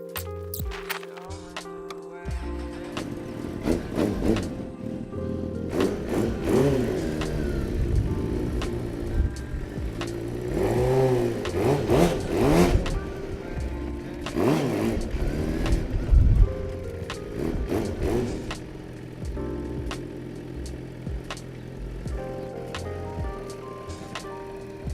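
A motorcycle engine revs repeatedly during a standing burnout attempt, loud rising and falling surges over a rough idle, with the wheel's roar building toward the middle.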